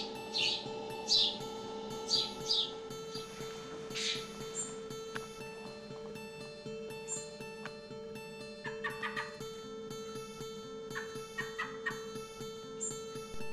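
Young fully feathered fledgling birds at a wildlife rehabilitation centre give faint, high chirps in short scattered bursts over a steady low hum, quiet and close.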